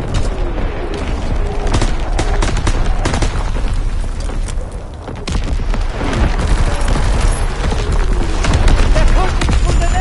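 Artillery barrage in Call of Duty WWII, loud and relentless, with overlapping booms and rapid gunfire crackling densely for the full stretch and no letup.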